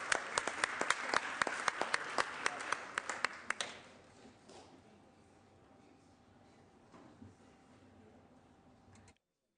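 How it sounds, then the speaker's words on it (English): In the California State Senate chamber, applause welcomes guests from the American Society of Civil Engineers, rhythmic, fairly distinct claps that fade out after about four seconds and leave a quiet room with faint scattered sounds. "Please give them a round of applause."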